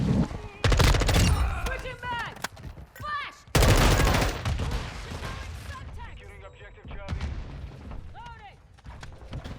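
Loud, close bursts of automatic gunfire and sharp shots ring out in a Modern Warfare 2 multiplayer match with an M4 loadout, in rapid volleys with brief lulls, mixed with in-game voices.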